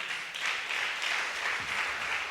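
Church congregation applauding during a Spanish-language worship service, a soft, distant, steady patter of clapping lasting a couple of seconds.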